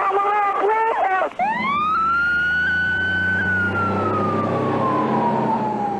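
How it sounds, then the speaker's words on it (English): Fresno fire, police and ambulance sirens begin with a few quick yelping bursts, then swell into a long, loud wailing tone that slowly falls, with an engine rumbling beneath. "Rescue units with the Fresno Fire and Police Departments and an ambulance from a nearby hospital were immediately sent to the scene"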